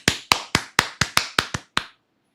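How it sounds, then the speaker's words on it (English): Eight sharp hand claps at a steady, fairly quick rhythm, close and crisp, then silence. "Everybody clap your hands."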